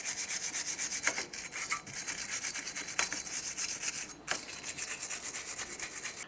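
A wire brush scrubs the hub mating surface of a 2010-2013 Kia Forte Koup front wheel bearing during a brake job, giving a steady close raspy scratching with brief pauses, no voices.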